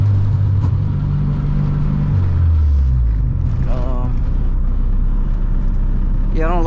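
A car engine running rich while being driven gives a continuous heavy rumble with some revving swells, and brief voices come in over it.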